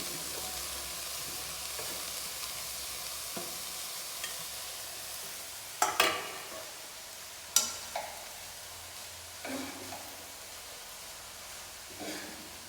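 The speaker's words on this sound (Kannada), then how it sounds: "ಇದೊಂದು 5 ಮಿನಿಟ್ಸ್ ಫ್ರೈ ಮಾಡ್ತಾ ಇರಿ." Veg momo filling, Coorg style, fries in a pan over a low flame with a steady close hiss and sizzle. A few sharper clicks and scrapes from stirring stand out now and then.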